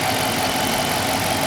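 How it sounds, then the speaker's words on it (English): A 2012 Dodge Charger police-package engine runs at a steady idle, close and even, with a dense, unbroken mechanical hum and no voices. "This is the engine."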